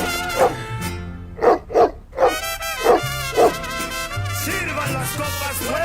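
A dog gives a string of loud, close barks, roughly six sharp yaps in irregular bursts, with a steady musical background beneath them.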